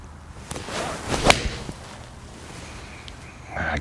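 Golf iron from a 2018 game-improvement set striking a ball outdoors, one sharp crisp click near the start, followed by quiet ambience.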